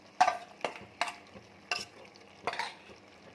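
Chicken is stirred into fried masala paste in a pan, with repeated wet scraping strokes and a light sizzle, close and steady without talk.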